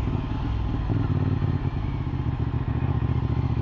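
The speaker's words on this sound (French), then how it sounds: "on va s'arrêter là juste pour que je vous montre la moto" A CFMOTO SR450 motorcycle engine runs steadily up close as the bike comes to a stop, a continuous low rumble with occasional clatter and thuds and no talking.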